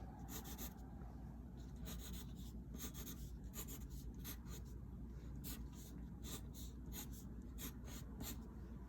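Small curved craft pieces for a hermit crab's claws being cut, giving steady scratchy rasping strokes in short repeated bursts, close up with a constant background hum and no talking.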